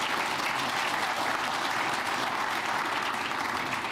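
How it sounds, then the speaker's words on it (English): Sustained, dense applause from an audience at the NYPD Commissioner's 'State of the NYPD' address, a steady roar of clapping holding at an even, loud level from start to finish with no voices over it. "Can we give them another round of applause?"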